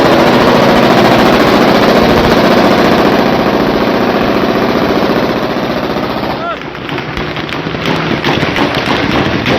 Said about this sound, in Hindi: गोलियों की आवाज, धमाकों की आवाज इस वीडियो में आपको सुनाई देगी